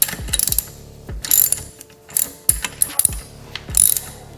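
A ratchet loosens the rear wheel nut on a Harley Softail motorcycle, giving bursts of loud, rapid clicking separated by short pauses and metallic clanks, close up and with no speech.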